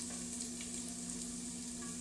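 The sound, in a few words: potatoes frying in oil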